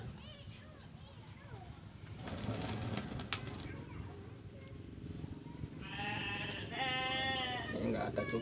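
A goat bleats outdoors, with a couple of drawn-out wavering bleats near the end, over a steady background rumble and some faint bird-like chirps.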